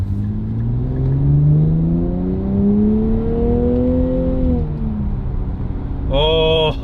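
A car engine held in second gear in manual mode revs up steadily, pitch climbing over several seconds before dropping, then a sharp higher-pitched rev burst at the end; loud and close, no talk.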